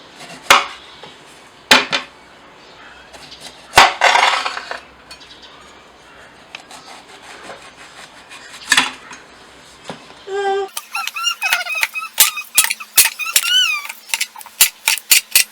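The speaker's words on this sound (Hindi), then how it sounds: "सबसे पहले हम काटेंगे खीरा।" A knife cuts cucumber on a board: scattered sharp knocks and clatter come first, then a quick, steady run of close chopping strokes with faint squeaks, with no speech.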